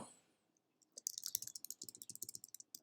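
Rapid typing on a computer keyboard, a quiet close run of crisp clicks beginning after a brief pause and continuing steadily to the end.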